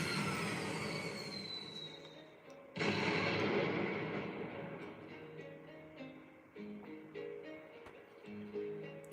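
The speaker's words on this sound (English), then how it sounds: "It's a firework." A firework bursts in the game The Unfinished Swan, a sudden loud boom over a rumbling, rattling game soundscape that keeps rolling on afterward, with no talk.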